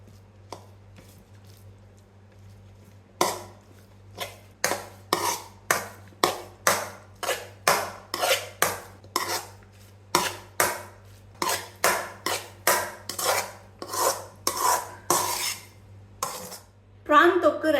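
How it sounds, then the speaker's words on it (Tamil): Rice is mixed into prawn thokku masala in a pan with a spoon, making a long run of loud, rhythmic scraping and clattering strokes against the metal, close and on its own. "இப்போ நல்லா மிக்ஸ் பண்ணிக்கோங்க."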